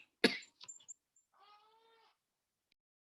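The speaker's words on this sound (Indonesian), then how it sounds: "Saya lagi batuk soalnya." A single sharp, close cough bursts out, followed by a few small, softer sounds and a brief tonal murmur before the room falls quiet.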